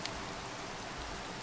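Heavy rain falling in the Minecraft video game, a steady dense hiss that stays even and continuous with no pauses, filling the whole moment alone without any voices.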